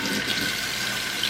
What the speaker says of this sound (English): Make sure the water cold. Make sure it's not hot. Then you rinse it off.